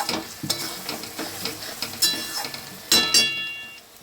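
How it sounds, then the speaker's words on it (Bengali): Mutton being stirred and sautéed in a pan with spices, a soft sizzle under intermittent scraping strokes and light metallic clinks of a spoon against the pan, several distinct stirring bursts close by. "মাটনটা দিয়ে কষাবো।"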